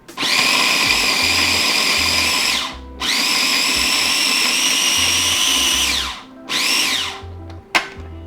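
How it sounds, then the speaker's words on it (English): A food processor pulses pepper down to a fine consistency. Three long motor bursts run at full whine, each ending in a falling spin-down, followed by one short pulse, all close and loud with no talk. "we're going to pulse this to a pretty fine consistency"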